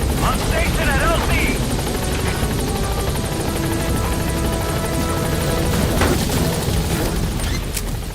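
A helicopter whirs loudly and steadily as it lifts off from a landing zone in Metal Gear Solid V, its rotor drone continuous with radio-style voices speaking over it.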